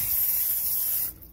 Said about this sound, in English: Got butter spray. That's what we always use.